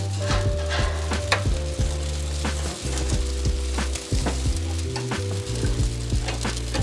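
St. Louis cut pork ribs sizzling on the grate of a Char-griller 980 gravity-fed charcoal smoker right after being flipped, a loud steady fry with crackling pops and low mechanical hum, close up.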